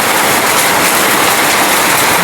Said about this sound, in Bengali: বাইরে দেখেন কি বৃষ্টি হচ্ছে, পুরো ঝড়, শিলাবৃষ্টি পড়ছে